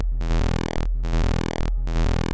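A loud, buzzy Serum 2 wavetable synth tone, scanned without interpolation, steps abruptly through changing timbres, sounding choppy and glitchy, repeated in three cycles separated by short breaks.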